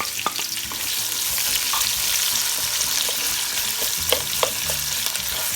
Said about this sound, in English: Now I'm gonna add my onion.